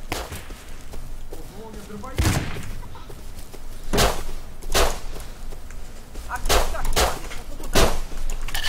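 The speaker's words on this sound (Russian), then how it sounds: "Сделай еще пару выстрелов." Gunshots ring out in the survival video game Rust: about seven sharp, loud reports spaced irregularly, mixed with players talking over the game sounds.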